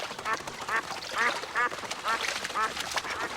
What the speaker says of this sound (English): these two wild ducks landed in my pool.